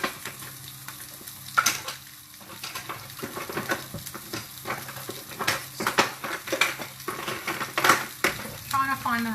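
Vegetables frying in a pan for a hummus dip, steady sizzle with frequent stirring and utensil scrapes against the pan, close and fairly loud, no talk.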